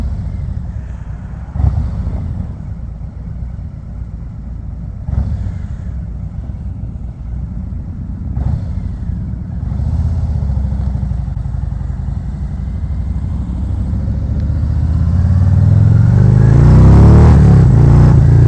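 2019 Harley-Davidson Ultra Limited V-twin breathing through Reinhardt exhausts, loping and rumbling on the move with a few sharp blips, then building into a louder, deeper roar under acceleration near the end.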